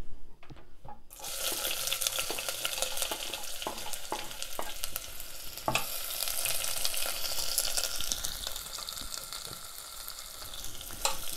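Thinly sliced onions dropped into very hot oil for a goat brain masala, bursting into a loud, continuous close sizzle with scattered crackles and pops that keeps on steadily.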